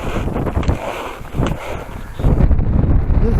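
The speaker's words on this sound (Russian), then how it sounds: "Ветер холодный" Strong, cold storm wind on a mountain ridge traverse over hard firn, roaring and buffeting the microphone in loud uneven gusts that swell stronger toward the end.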